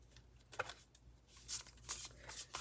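Soft, papery riffling and flicking of tarot cards, several uneven bursts of shuffling with faint background hiss.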